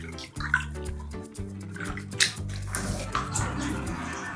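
Alum being stirred into water with potato chips for a big batch of batata chips, giving sloshing, splashing water sounds close by, with a voice and other household sounds faintly in the background.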